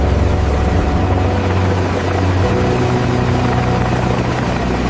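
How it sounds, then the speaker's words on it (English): A helicopter's rotor runs steadily during a factory rotor test, producing a loud, continuous whirring drone with a constant low throb that holds through the whole stretch. "The helicopter demonstrates stable rotor operation."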